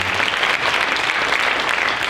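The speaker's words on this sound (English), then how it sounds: "One more round of applause for Miss Avery Henschel on alto sax." A school band winter concert audience gives an alto sax soloist dense, sustained applause, loud and continuous throughout with no pauses or speech.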